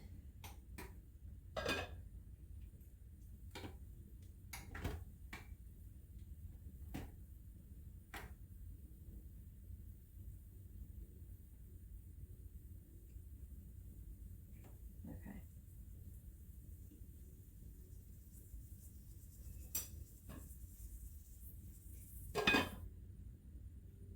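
A spoon stirs coconut milk into chicken tikka masala in a slow cooker, producing faint scattered clinks and taps against the pot over a quiet background.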